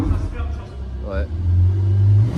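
A Ferrari engine revs up and holds a loud, rumbling roar near the car, in a workshop setting with a voice talking over it.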